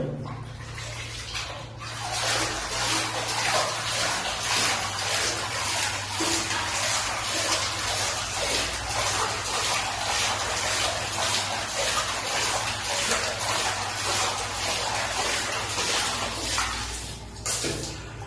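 In a bathroom, running water splashes steadily and close for most of the stretch while a person rinses the mouth and washes the face, with a quieter start and end.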